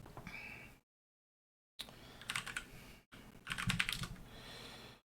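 Computer keyboard typing a network command in bursts of quick clicks, with a short silent gap and a brief pause between runs of keystrokes, close and moderately loud.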